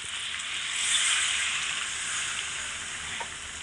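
Chicken curry sizzles steadily in a pan as it is stirred, a continuous hiss at moderate level with a soft scrape near the end and no talking.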